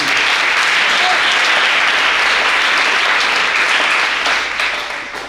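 A church congregation at a French-language worship service applauds, loud, dense clapping from many hands that holds steady throughout and eases slightly at the close.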